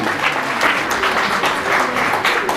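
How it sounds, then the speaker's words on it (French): Dense, steady applause from an audience at a genealogy forum, filling the short stretch without a break. "je crois qu'on peut les applaudir"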